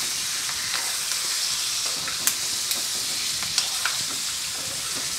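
Curry leaves tempered in hot oil (baghar) for chili salan, a steady close-up frying sizzle and hiss with a few sharp crackles and pops scattered through it.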